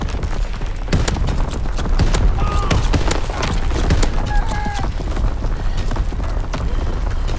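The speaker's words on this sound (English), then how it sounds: "Incoming enemy artillery. Get to cover." Enemy artillery bombards a position in a multiplayer shooter, producing dense, loud, overlapping blasts and crackling impacts with scattered gunfire throughout, close and chaotic.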